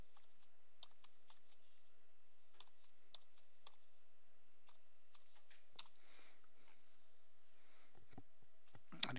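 Password keys tapped on a computer keyboard during server software setup, a quiet, irregular series of light clicks spread through the clip, ending in a few louder knocks near the close.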